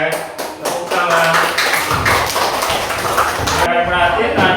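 A classroom of pupils clapping hands together after a coding and computational thinking game, dense sustained clapping over steady murmuring voices, close and loud throughout.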